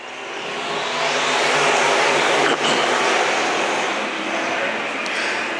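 Dirt track race cars roaring off at the green flag at Fulton Speedway, a loud, building engine roar from the pack that swells and holds under an announcer's voice.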